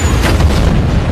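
A loud, deep boom of a missile explosion rolls out and rumbles for about a second.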